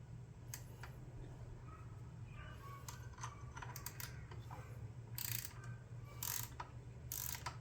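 An 8 mm wrench ratchets loose the shifter bolt on a 2022 Yamaha MT10 motorcycle, with faint, close clicking in short bursts over a steady low background hum.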